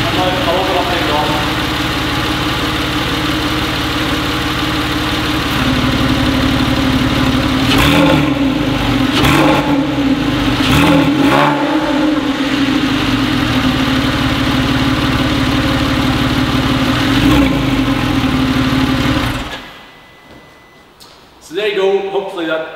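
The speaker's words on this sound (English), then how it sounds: "And now I'll open up the exhaust." Porsche 911 Carrera S Aerokit idles with the sports exhaust open, a loud, steady, deep rumble broken by several short blips of revving before cutting off near the end.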